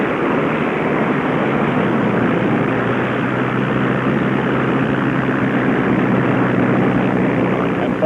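Vintage racing airplanes, including a P-51 Mustang and an F8F Bearcat, make a steady, loud piston-engine roar during the in-the-air start of the Unlimited Classic at the Reno air races. The drone is sustained and broad, with no talk.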